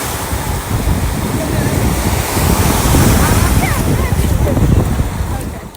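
Ocean surf rolls in at Miami Beach, a loud, dense wash of breaking waves mixed with strong wind buffeting the microphone, continuous and close, with no voices.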